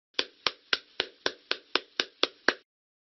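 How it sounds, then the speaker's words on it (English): Ten sharp hand claps in a steady, even rhythm, close and crisp, each ringing out briefly before the next, with no talking. "Can you clap your hands?"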